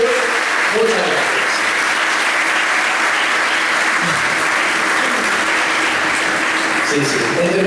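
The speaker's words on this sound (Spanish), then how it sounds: "empezamos con un fuerte aplauso para todos los patrocinadores y organizadores del evento" Dense, steady applause from an event audience for the sponsors and organizers at an industry awards night, a continuous wash of clapping lasting throughout with no break.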